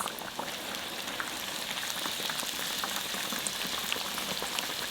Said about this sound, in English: And fry until golden brown